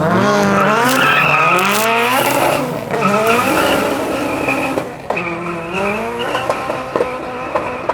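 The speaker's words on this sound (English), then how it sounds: "you hear that dude hazing tires through 4th gear" Loud, sustained tire squeal from a car hazing its tires through fourth gear at a car festival, screeching steadily with shifting pitch as the engine roars, close and continuous with no voices.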